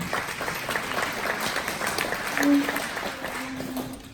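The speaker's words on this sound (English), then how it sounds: "give yourselves a round of applause for being here" A panel audience at the Montrose County Event Center gives a steady round of applause, a continuous wash of clapping with some voices mixed in near the end.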